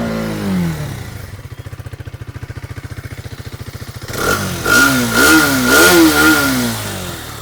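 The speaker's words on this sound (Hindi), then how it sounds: "तो एग्जॉस्ट का साउंड देख लो, यहाँ पर मैं आपको दिखा रहा हूँ।" A 2025 Hero Xtreme 250R motorcycle idles with a fast, even exhaust thump before being revved repeatedly, the engine note rising and falling in loud, close blips.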